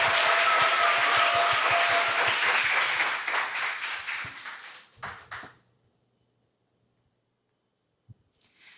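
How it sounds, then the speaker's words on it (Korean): A crowd at a Korean national student presentation contest bursts into loud applause that holds for several seconds, then thins to scattered claps and fades into silence. "큰 박수 부탁드립니다."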